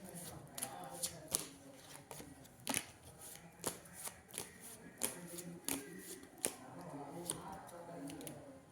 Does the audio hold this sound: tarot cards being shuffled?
yes